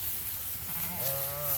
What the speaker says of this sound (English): Sheep are coming in first like usual.